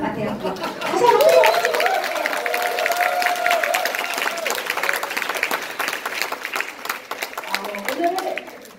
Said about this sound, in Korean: 박수 한번 해주시겠습니다.